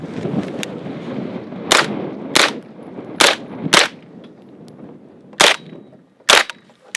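Six sharp, loud gunshots fired at uneven intervals during a shoot/no-shoot firearms training drill, each crack standing out clearly over steady background noise.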